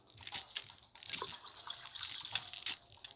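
Water gushes steadily through a hose into a dog's dish in the Thirsty Doggy video game, a bright, splashy trickle with small bubbling bursts, up close and uninterrupted.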